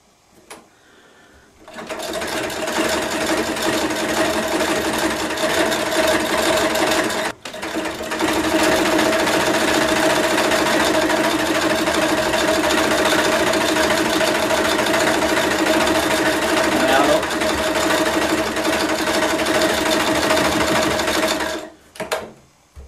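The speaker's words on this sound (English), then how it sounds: "I'll just sew across the bottom anyway" A 100-year-old sewing machine runs steadily across fabric, its continuous close mechanical whir broken by one brief pause before it carries on until it stops near the end.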